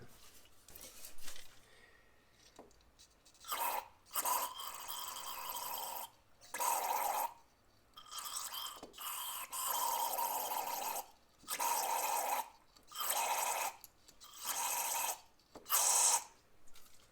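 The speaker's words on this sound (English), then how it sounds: "spraying some carb cleaner down here into the fuel inlet just to see what happens" Carb cleaner sprayed into the fuel inlet of a Honda Rincon ATV carburetor, a run of short, hissing aerosol bursts, about a dozen, each lasting a second or so with brief gaps between.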